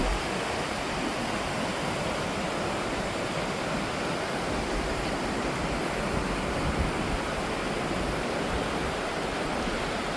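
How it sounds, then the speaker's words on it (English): Broad, steady roar of a waterfall at Falls Park in Sioux Falls, South Dakota, a constant rushing wash of water heard fairly close with no voices over it. "The major falls are right down there"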